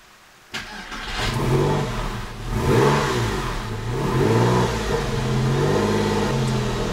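A Porsche 996 engine starts with a sharp catch, then revs under a held accelerator, rising and falling in loud, close surges before settling into a steady high idle.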